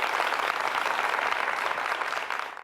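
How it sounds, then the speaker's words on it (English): A dense, even round of applause from an audience for the show's contestant leaders fills the whole short stretch, tapering slightly at the very end. "so I think we should give them a round of applause"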